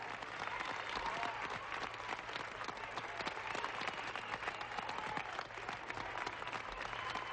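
Sustained applause and cheering in a mission control room after a spacecraft landing, many people clapping in a steady, dense patter heard at a distance, continuous with no pauses.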